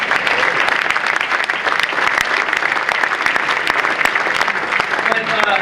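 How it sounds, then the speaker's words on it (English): Loud, sustained applause from a crowd at a Hall of Fame induction ceremony, dense steady clapping throughout with no pauses. "So can we give him a round of applause?"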